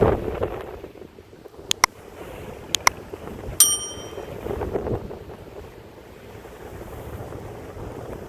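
Small fishing trawler riding big waves at sea, heard as a steady rumble of wind and surging water with a few sharp clicks early on, no voices.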